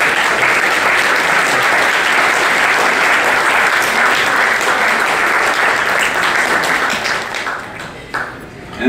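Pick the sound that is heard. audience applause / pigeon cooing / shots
audience applause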